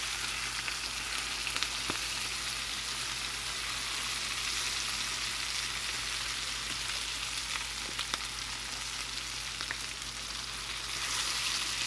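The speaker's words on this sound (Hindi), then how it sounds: "इस साइड से भी अच्छे से जो है वो आपने बहुत अच्छे से फ्राई करना है" Fish pieces frying in a pan after being turned over, giving a continuous, even sizzle at moderate volume that carries on alone for the whole stretch.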